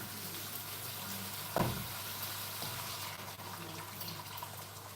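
Onions frying in a pan over turned-up heat for a curry, making a low continuous sizzle with one brief louder clatter near the start, close and quiet, with no talking.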